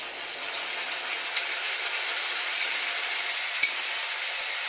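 A paste of ginger, green chilli, cumin, tomato and turmeric sizzles in hot oil with fried potatoes in a pan, a steady bright frying hiss that grows slightly and holds, with one small clink partway through.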